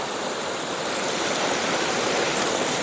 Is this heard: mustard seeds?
no